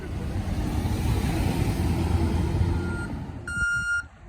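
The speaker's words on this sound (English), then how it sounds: "Here's the truck to get her now." A tow truck arrives for a red 1992 Nissan Hardbody pickup after a minor crash, its engine rumbling steadily before a few sharp electronic reversing beeps sound near the end.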